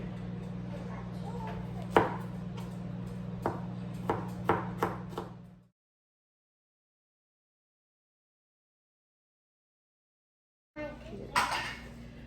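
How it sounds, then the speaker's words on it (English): A knife chopping garlic on a cutting board, a handful of sharp, close knocks over a low kitchen hum, stopping abruptly into silence before a brief return of clattering at the end. "And then I'm gonna chop up some garlic and add it in here."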